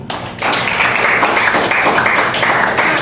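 Clapping in a school classroom during a lesson, with a few taps before a dense, steady burst of applause from the students that carries on to the end.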